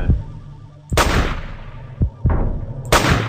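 Gunfire in a flash shooting video game: three sharp, loud shots spaced about a second apart, each with a short decaying tail, no talk.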